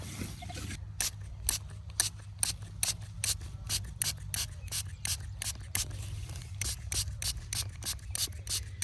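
A spray bottle spritzes a freshly dug coronation medal in a field, a long run of quick, sharp, evenly spaced squirts over a low steady background hum.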